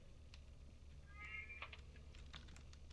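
A cat meows briefly in the Lethal Company video game, a short mid-pitched cry over a low steady game hum with faint clicks around it.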